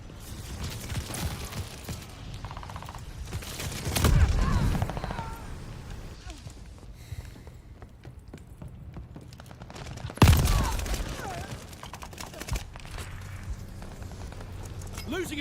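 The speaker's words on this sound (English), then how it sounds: "How is this guy just randomly shooting me?" Bursts of gunfire from the Call of Duty Vanguard video game, an MG42 in play: two heavy, loud volleys stand out amid continuous rattling shots and game noise, with a voice speaking over it.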